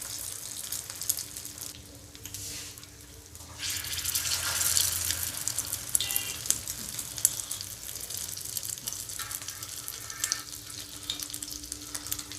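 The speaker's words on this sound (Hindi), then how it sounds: "अब इसको एक एक पीस डिप करके फिर इसमें फ्राई करेंगे। तेल हमारा गर्म हो गया है" Pieces of fish kabab tikki frying in hot oil over medium heat: a steady loud sizzle and crackle that swells partway through as pieces go in, with faint clinks, no talking.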